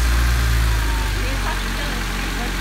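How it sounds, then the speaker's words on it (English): A Honda CB7 car engine idles in a steady, close, loud low rumble that holds even throughout, with voices nearby. "It's idling pretty well"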